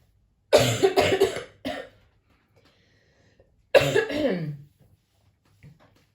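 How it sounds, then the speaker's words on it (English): Two rough, forceful throat-clearing bursts a few seconds apart, close and loud, with quiet pauses between them. "I have to really kind of clear my throat"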